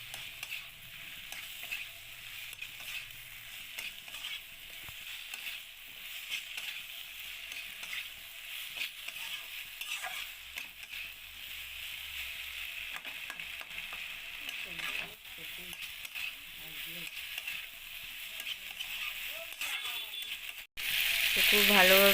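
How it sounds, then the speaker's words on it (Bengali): Potatoes and taro (kochu) frying and being stirred in spice paste in a pan, a steady close sizzle with scraping strokes running throughout, growing louder near the end. "তো ভেজে রাখা আলু আর কচুটা এবারে আমি দিয়ে দেব। তো দিয়ে দিলাম, খুব ভালো করে ভেজে নেব আরও কিছুক্ষণ।"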